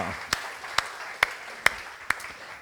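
Applause at a conference talk, a soft bed of crowd clapping punctuated by five loud, evenly spaced sharp claps close by, with a voice murmuring underneath.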